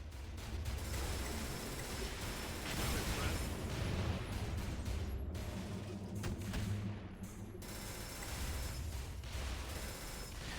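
Rapid gunfire in the shooter video game Fuse: dense, continuous bursts and impacts fill the stretch at low level, with mechanical clatter and faint explosions mixed in.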